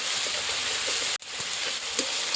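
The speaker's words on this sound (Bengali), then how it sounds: "পেঁয়াজ দিলাম, একটু খুন্তিতে নেড়ে দিতে হবে।" Onions sizzle in hot oil with garlic for a home-style potato curry while being stirred with a metal spatula, giving a loud, continuous hiss broken by one brief dip and a scrape.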